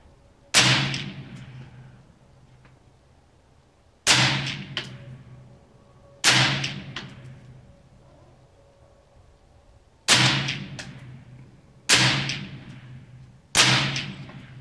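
Six sharp, close reports from an AR-15 rifle fitted with a Huntertown Arms Kestrel 5.56 suppressor, fired at uneven intervals of one to four seconds, each a loud crack with a short decaying tail and no talking between.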